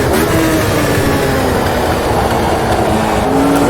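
A race car sliding sideways in the sim racing game Automobilista 2, in a 1983 Race of Champions event, with loud sustained engine roar and tyre scrub filling the whole moment, no talk.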